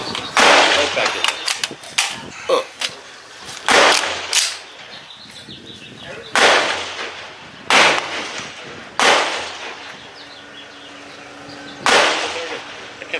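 An Aero Precision AR-10 rifle fires sharp, loud single shots spaced several seconds apart, with mechanical clatter between them during failure testing, as the rifle misfires and fails to feed.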